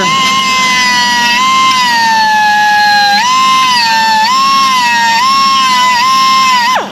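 A small die grinder whines loudly and continuously while shaping fiberglass, its high pitch dipping and recovering as it bites into the material and rising again between cuts.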